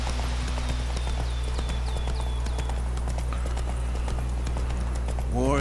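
Roach, the horse in The Witcher 3 video game, gallops in a rapid steady clip-clop of hooves, loud and close over a constant low game hum, with a brief whinny-like rise at the end.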